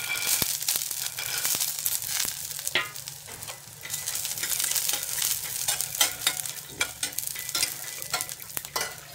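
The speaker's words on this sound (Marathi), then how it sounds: "तेल छान तापले, त्यामध्ये मिरची घालायची. त्यामध्ये घालायचे शेंगदाणे." Chillies and peanuts frying in hot oil for potato chivda, a steady close sizzle with frequent stirring scrapes and clatter running throughout.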